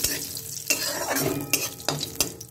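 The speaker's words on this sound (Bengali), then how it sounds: "এগুলো দিয়ে আমি একটু নাড়িয়ে দিলাম।" Bay leaf and dried red chillies stirred in hot oil in a pan, a steady sizzle with repeated scraping strokes of a spoon against the metal, close and continuous.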